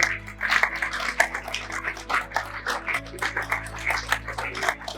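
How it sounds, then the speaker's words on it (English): Audience at a university partnership anniversary celebration applauds, a dense continuous patter of many hands clapping at moderate distance in a hall, with faint murmuring underneath. "Please clap."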